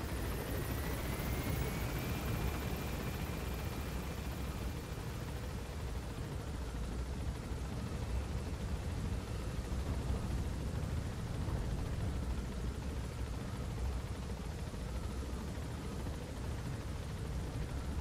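Helicopter in the video game Metal Gear Solid V taking off and climbing, a steady loud rotor and engine roar that holds throughout with no talk.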